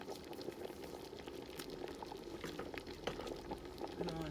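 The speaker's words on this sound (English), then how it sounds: "I'll put it more water." A pot of Jamaican red peas soup bubbles and simmers steadily while more water is poured in, giving a soft, continuous gurgling and splashing at a low level with no talk.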